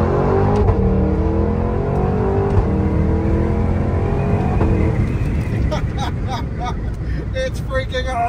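A supercharged 6.2-liter V8 car accelerates hard, a loud, steady engine roar building in pitch and intensity over several seconds with some wind and road noise, while people talk over it.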